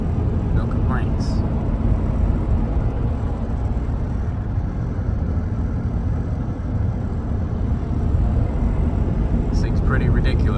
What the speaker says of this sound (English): here we are, going down the road in the limo